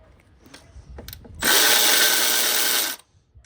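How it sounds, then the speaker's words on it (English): A power tool, likely an impact driver or ratchet, spins off 10 mm bolts on the top of a catalytic converter on a 2016 Honda Accord V6, giving one steady loud whirring burst of about a second and a half after faint clicks. "we're going to start with removing these bolts on top, those 10 mils."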